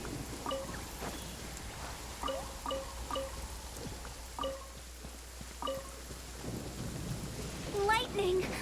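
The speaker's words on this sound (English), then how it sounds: "Lightning!" Thunder rumbles and cracks in the Genshin Impact video game. The strikes come as repeated sharp claps over a steady rain bed, with a brief game sound effect near the end.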